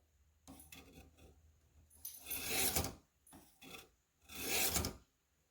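A dull Spyderco Police EDC knife is drawn across the coarse stones of a Warthog sharpener, giving a few short scrapes followed by two long loud rasping strokes, close-up and alone.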